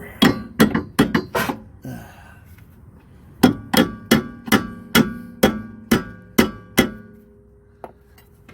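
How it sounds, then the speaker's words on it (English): A hammer strikes the rear strut of a 1993 Chevy Lumina in quick ringing clangs, a burst of five, a pause, then a steady run of about nine more blows, close and loud. "might have to do a little persuading with the hammer"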